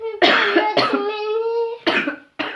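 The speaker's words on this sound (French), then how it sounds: "Je suis malade, hein, je suis désolée, je tousse." A pregnant woman who is ill coughs three or four times in harsh, close bursts, with a drawn-out raspy throat sound between them.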